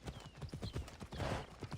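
Hooves clip-clop in quick succession as a flaming horse is ridden in Assassin's Creed Odyssey, a brief, close, rhythmic gallop.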